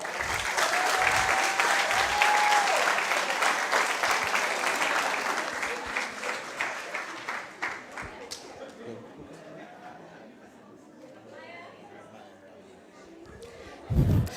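Audience applause at a Rotaract Club of Grenada and credit union awards ceremony, a loud sustained burst of clapping that gradually thins and fades out, with a short louder flurry near the end.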